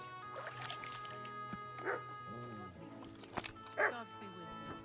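A dog in a medieval village barks a few times in short, separate yips and woofs, fairly close, while someone talks to it in a friendly tone over quiet outdoor ambience.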